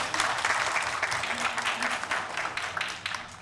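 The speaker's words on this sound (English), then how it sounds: "Give yourself a round of applause." Audience applause at a Collie Club of America breed education seminar, a dense steady clapping from a roomful of people that holds at an even level throughout.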